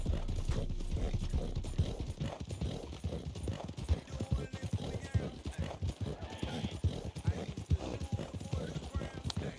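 A horse gallops in the RedM video game, with steady rapid clip-clop hoofbeats and an occasional whinny, mostly under someone talking.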